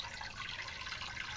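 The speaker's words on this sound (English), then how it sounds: "for now, we just have water inside and the fountain running." Water from a container fountain kit runs into a plastic flower pot on a porch, a steady soft splashing trickle that continues without pause.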